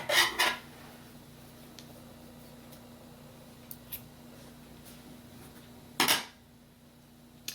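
Scissors snip through crochet yarn in two short, close cuts several seconds apart, with faint handling noise in the quiet between them.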